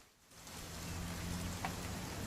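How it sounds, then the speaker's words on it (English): Steady rain falls in the video game What Remains of Edith Finch, a soft continuous hiss that swells after a brief quiet start, with a few faint drops standing out. "It's gonna rain the whole weekend, isn't it?"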